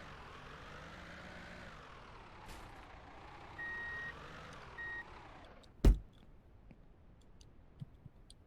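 Truck in Contract Ville reversing, its backup beeps sounding faintly in a steady rhythm over low engine hum, then a sharp click near the end before quieter background.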